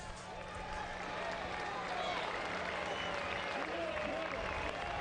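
A college baseball crowd at a Houston regional game rises to its feet, a dense roar of applause and cheering swelling steadily over a few seconds, with voices mixed into the crowd noise.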